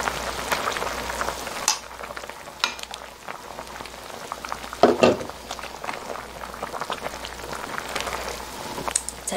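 A pot of Gyeongsang-style perilla seed freshwater snail soup with vegetables bubbles on the stove, a steady close crackle and pop of boiling broth with a few louder bursts.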